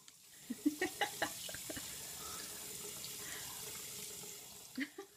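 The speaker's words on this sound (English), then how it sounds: "then I run all new water for him" Tap water runs steadily into a sink to fill a fresh bath for a pet hedgehog, a continuous close splashing stream with a few brief clunks and splashes near the start and end.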